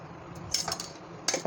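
A spoon scraping and clinking against a hot pan while half a spoonful of oil is spread across it, a few brief metallic strokes, close and quiet, alone without talk.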